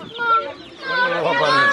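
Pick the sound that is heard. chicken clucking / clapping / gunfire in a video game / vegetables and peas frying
chicken clucking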